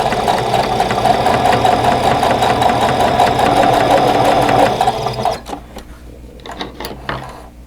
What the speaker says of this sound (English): And I'm just going to chain piece them, so I'm going to just put in one set right after the other.